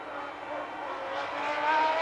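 Formula 1 cars race at the 1990 San Marino Grand Prix as Mansell overtakes Alesi, a distant, building engine whine with a thin high-pitched scream that grows louder toward the end.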